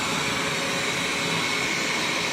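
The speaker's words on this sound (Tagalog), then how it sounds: "Thankful talaga ako na meron akong Snow White na tumutulong sa akin pag-vacuum ng bahay" A robot vacuum cleaner runs through a house with a steady, continuous whirring drone that stays even and fairly loud throughout, with no voices.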